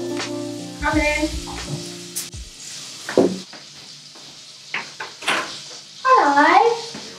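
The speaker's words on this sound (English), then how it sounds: "You hear it sizzling" Butter sizzles in a frying pan on a home stove, a soft steady crackle running under people talking nearby, with occasional clinks of pans and utensils.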